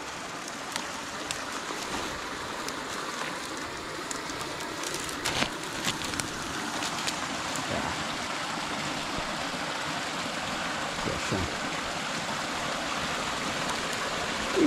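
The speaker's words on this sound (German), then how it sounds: "Ja, hier in Unterführung mit Bach." A forest stream runs through a small underpass beneath a bridge, a steady, broad rush of water that fills the space evenly with no one talking.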